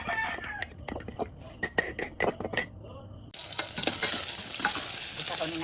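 Sardines fry in a pan, first as scattered crackles and pops, then as a steady loud sizzle as more oil or food hits the hot surface.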